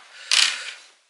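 Parts of a Crius vape atomizer being screwed back together by hand, giving a brief close-up metallic scrape and click that rises sharply, then fades over about a second.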